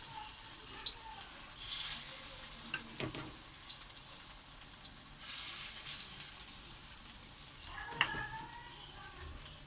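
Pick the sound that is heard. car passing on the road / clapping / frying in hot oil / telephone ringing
frying in hot oil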